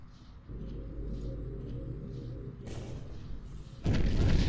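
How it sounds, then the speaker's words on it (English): MAC guns fire in a space combat video game, deep booming rumbles rolling under a steady low drone, then a louder, harsher burst of noise near the end. "See, those are the MAC guns firing."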